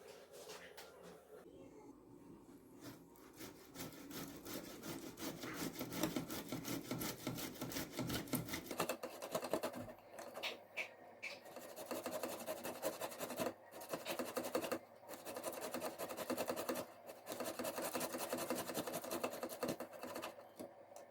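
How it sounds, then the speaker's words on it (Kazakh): Boiled potatoes rubbed across the coarse side of a grater for a mayonnaise salad, quiet repeated rasping strokes in a steady back-and-forth rhythm, close and soft with brief pauses. "Дәл осылай картоплымызды теркіден өткіземіз."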